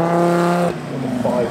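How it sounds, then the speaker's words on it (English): A five-cylinder turbo Audi S2 drag car roars loud and close, its engine note holding steady, then dropping and rising again in a short burst with no voices. "5 cylinders turbo engine today."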